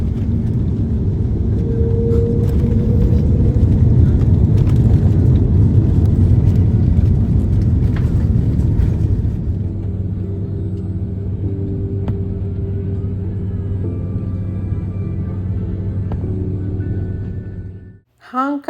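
A Cathay Pacific airliner lands on a runway ringed by mountains, with a loud, deep continuous rumble that drops to a steadier lower roar halfway through, followed by a brief burst of sound at the end.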